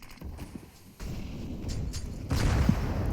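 A grenade goes off in the video game CS:GO: muffled thumps and clatter build to a louder rumbling burst near the end, over dense in-game noise.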